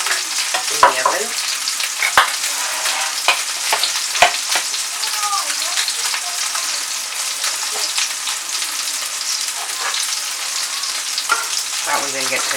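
Homemade meatballs sizzle steadily in a hot pan, with scattered clicks and scrapes as they are turned, the frying close and continuous throughout.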